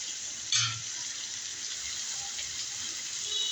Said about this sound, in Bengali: এখন একটু ভেজে নিব চিংড়ি মাছ।